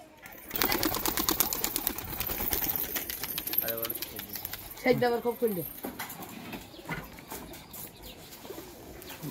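Pet pigeons kept in a stairwell room coo in soft rolling phrases close by, joined by rustling and a few wing flutters, while people talk over and around them.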